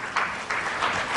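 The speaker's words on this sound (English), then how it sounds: "Round of applause, please." A short burst of audience applause at an award gala, dense steady clapping from a crowd filling the room for just over a second.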